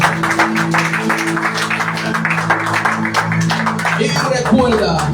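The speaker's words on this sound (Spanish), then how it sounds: "Fuerte el aplauso que es para nuestro Dios." Congregation in a church clapping together in dense, steady applause for several seconds, mixed with music and a voice speaking over it.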